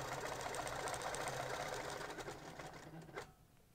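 A sewing machine runs steadily, stitching fabric around a marked line with the Little Buddy accessory, a continuous close whirring hum that slows and stops near the end.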